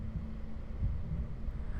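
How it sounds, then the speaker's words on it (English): A monster's heartbeat thumps in Bendy and the Ink Machine, a deep, low throbbing pulse repeating under a steady hum, muffled and fairly quiet with no talking. "the sound effects whenever he's wandering around, like the heartbeat and like his snarling"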